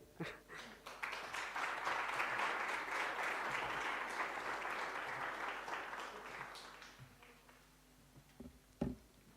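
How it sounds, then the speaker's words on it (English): Audience applause at a postdoctoral fellow seminar, a long sustained round of many hands clapping that swells, holds steady for several seconds, then tapers off into a few scattered final claps. "Let's give her another round of applause."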